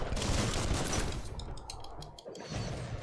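Rapid bursts of gunfire from the video game Biomutant, a loud crackling volley in the first half that thins into a few sharper separated shots, with no talk over it.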